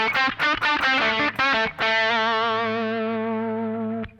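An electric guitar played through a Sonicake Rude Mouse distortion pedal strums a few quick distorted chords, then lets a final chord ring out, sustaining loudly for a couple of seconds before it is cut off.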